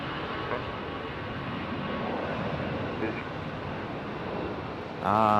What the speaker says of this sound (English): got an A319 on the move. Already good sounding departure there.